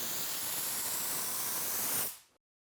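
An HVLP spray gun loaded with water gives a steady close hiss of atomized spray for about two seconds, then cuts off sharply into silence.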